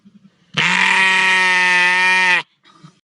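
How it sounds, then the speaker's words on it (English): A sheep lets out one long, loud, close bleat lasting nearly two seconds, followed by a faint short grunt. A few soft knocks come just before it. "our resident sheep had to get a quick shout in that one"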